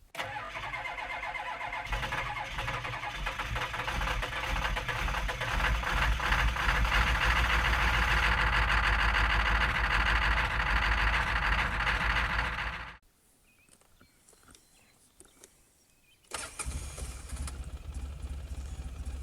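A Polaris Sportsman 600 ATV engine idles roughly, a loud, steady rumble with uneven pulsing that runs for several seconds, cuts to near silence, then starts again.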